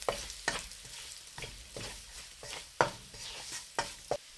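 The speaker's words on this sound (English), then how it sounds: "Add the paprika. Stir for 10 seconds." Lemongrass, kaffir lime leaves and paprika stirred in hot oil for a Thai tom yum shrimp stir fry, with a steady close sizzle broken by about eight sharp scrapes and clatters of a utensil against the pan, no voices.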